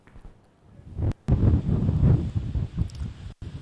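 Strong stormy wind from Cyclone Biparjoy buffets the microphone in a loud, gusty low rumble that swells and dips, with a brief dropout near the end.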